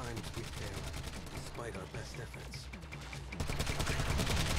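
Gunfire from a Warframe match, a steady stream of rapid shots layered with game effects and music, growing louder and denser toward the end.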